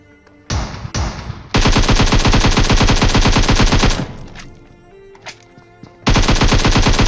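Rapid automatic gunfire in a shooter video game, loud and close, with long sustained bursts broken by brief pauses and a couple of short single shots.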